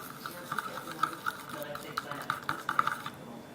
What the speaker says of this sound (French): vous touillez et ça va se former automatiquement